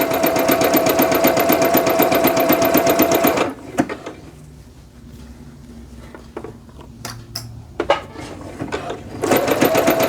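Sewing machine running fast on a short zigzag stitch, a dense steady whir for several seconds, stopping for a quiet stretch with faint handling clicks, then starting again near the end.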